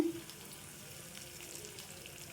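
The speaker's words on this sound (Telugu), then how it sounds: "వేసేసుకొని మంచి క్రిస్పీగా వచ్చేంత వరకు పోపుని అయితే వేయించుకోవాలండి" Spices and curry leaves frying in hot oil for a tempering, a steady soft sizzle with faint watery crackle, quiet and continuous throughout.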